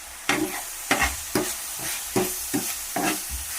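Onion samosa filling with garam masala and chicken masala stirred in a pan: close, rhythmic spoon scrapes about twice a second over a light, continuous sizzle.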